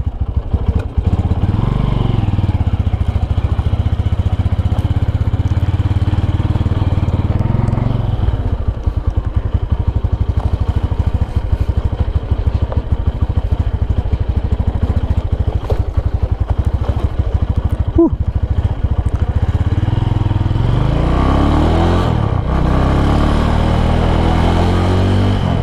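A 2011 Honda Tiger motorcycle being ridden, its engine droning loud and steady at close range, with the pitch rising and falling through gear changes and throttle, and no talking.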